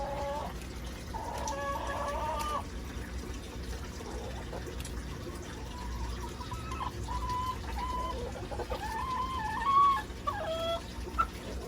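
Backyard chickens cluck and call in a garden, a steady run of short clucking phrases close by over a constant low background hum, with no talk.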